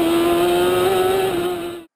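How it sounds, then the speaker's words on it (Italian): A small Fiat X19-based racing prototype with a 1200cc Kawasaki engine runs at speed, its engine a loud, steady high-pitched drone held close for about two seconds before cutting off abruptly. "velocità entusiasmante per questo piccolo prototipo by Fiat X19, come detto motore da 1200 centimetri cubici, Kawasaki"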